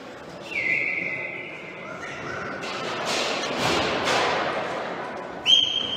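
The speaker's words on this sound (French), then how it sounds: "Sifflé par monsieur l'arbitre." A referee's whistle at a Nationale 2 handball match between RH Gleizé and HCF Tourcoing gives a long, steady, shrill blast, then a short sharp toot near the end, over a busy indoor hall.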